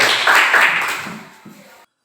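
Short burst of applause from a classroom of students, loud and close, fading out after under two seconds.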